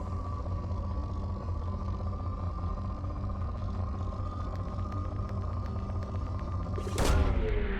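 A probe launching in Mass Effect 2, heard as a sudden loud whoosh and thump near the end over a steady, droning electronic hum.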